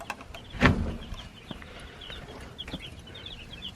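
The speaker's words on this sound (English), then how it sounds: "See how our chickens are doing this morning." A flock of thirty young meat chickens kept under a heat light in the morning, soft scattered clucks and chirps near and fairly quiet, with one louder bump early on.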